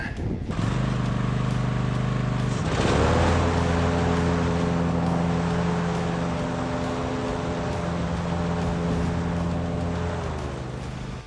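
A Cub Cadet zero-turn mower engine cranks briefly, then catches and runs loud and close, holding a steady, even drone that climbs slightly in pitch and tapers a touch near the end.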